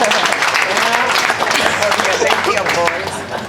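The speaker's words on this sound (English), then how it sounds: "I think that's my father clapping" Clapping at a grand opening ceremony, a dense burst of hands clapping at close range that carries on steadily, blended with crowd noise and speech, then eases slightly near the end.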